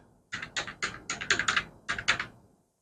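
Typing on a computer keyboard: about ten crisp, distinct key taps in an uneven rhythm, close and clear against near silence, no speech.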